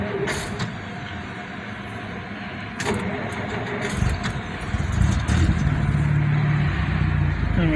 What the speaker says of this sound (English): Let me fire it up for you guys.